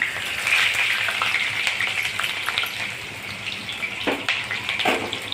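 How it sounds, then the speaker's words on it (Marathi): Onion sautéing with cumin in hot oil in a pan, a steady loud hiss and sizzle throughout with a few brief stirring knocks near the end. "कांदा सुद्धा छान परतून घेणे."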